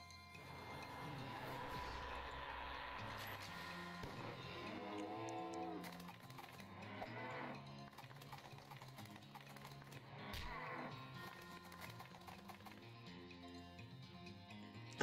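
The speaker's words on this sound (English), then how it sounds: "Her farm appears to have been attacked by cows." Cows moo repeatedly on an attacked farm in the video game West of Loathing, with several drawn-out lowing calls over soft background music.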